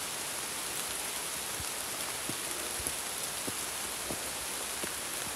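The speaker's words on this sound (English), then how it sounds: "we're walking up in the rain" Steady rain patters all around in a forest at Vintgar Gorge, Slovenia, with occasional heavier drops, a soft continuous hiss with no voices.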